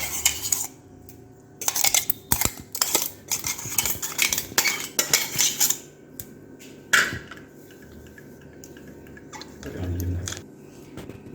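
Sardine masala being mixed by hand in a dish, bursts of close clinking and scraping against the dish in uneven clusters, then quieter gaps with a single knock and a low rumble near the end.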